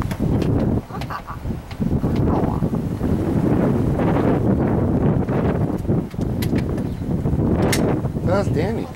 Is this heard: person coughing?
no